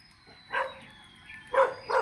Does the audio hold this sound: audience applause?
no